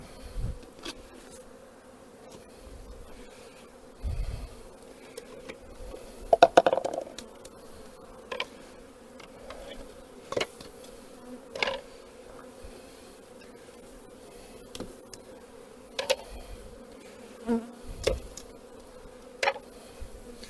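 Low steady buzzing of honeybees close by at an open hive during queen cell introduction, with scattered light knocks and clicks now and then, no voices.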